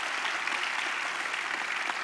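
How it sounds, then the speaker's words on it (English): A conference closing-session audience applauds steadily, a dense, even wash of many hands clapping with no pause. "Please give a big applause to them."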